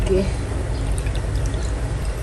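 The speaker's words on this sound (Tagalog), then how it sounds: "lagyan po natin ng kalahating bote ng tubig" Water pours steadily into a pan of chili sauce for a couple of seconds, a soft continuous splashing trickle close by, with faint kitchen background noise.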